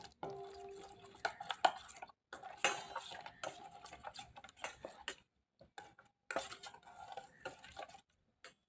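Vegetable dum biryani being mixed in a pot, a spoon scraping and clinking against the metal in irregular bursts with short pauses, close and moderately loud, no voices.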